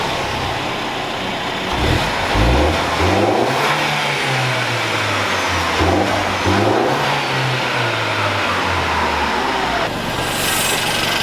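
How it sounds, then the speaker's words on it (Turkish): A Mercedes E-Class engine revs repeatedly, rising and falling in pitch with a whooshing turbo whine, loud and close. "Bir çalışsana turbonun sesini bir duysak."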